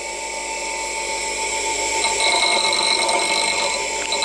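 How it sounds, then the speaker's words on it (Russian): A bench grinder whines steadily at close range as it grinds the metal of a car stabilizer link, with its pitch shifting slightly under the load and no talking. "Если даже маленько резинку сверху заденем наждаком, ничего страшного."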